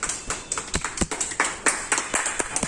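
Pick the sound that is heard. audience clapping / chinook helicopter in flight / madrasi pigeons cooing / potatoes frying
audience clapping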